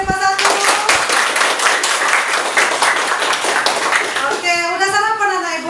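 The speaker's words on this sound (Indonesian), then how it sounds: "aplaus untuk 10 IPA 1" Classroom of students clapping together, a dense continuous patter of hands for several seconds, then tapering off as a teacher's voice speaks near the end.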